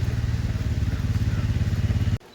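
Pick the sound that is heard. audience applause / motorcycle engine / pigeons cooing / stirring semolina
motorcycle engine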